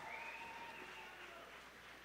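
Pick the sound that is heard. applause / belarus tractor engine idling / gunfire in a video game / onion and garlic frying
applause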